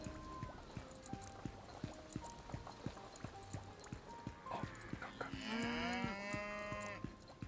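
Cow mooing in the Lost Ark video game, one long, loud, drawn-out moo near the end over a steady rhythm of hoof clip-clops and a faint cowbell-like ring.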